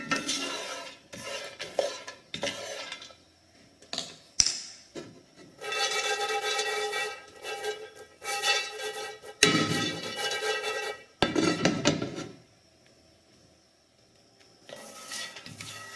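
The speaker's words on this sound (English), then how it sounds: "the key here to roasting coffee in a pan is to keep it stirred up, keep it moving" Coffee beans roasting in a pan, stirred continuously: bursts of rattling, scraping metal-utensil strokes and clinks come in uneven spells separated by quieter pauses, close and fairly loud.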